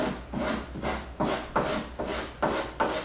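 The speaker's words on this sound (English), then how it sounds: "most people know how to rasp and sand" A hand rasp scrapes a damaged wooden bathroom door in steady back-and-forth strokes, about seven gritty rasping passes in three seconds, close and fairly loud.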